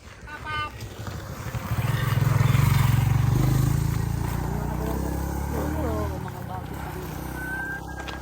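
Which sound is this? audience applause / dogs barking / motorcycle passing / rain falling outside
motorcycle passing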